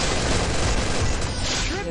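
Dense, loud burst of overlapping gunfire in the Free Fire battle game, a continuous crackling barrage filling the short moment with no clear gaps.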